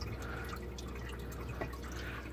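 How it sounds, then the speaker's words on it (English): Faint water drips from a pump union on a Cor 15 system running at about 60%, small isolated ticks over a steady low machine hum and chugging. "Was that a drip?"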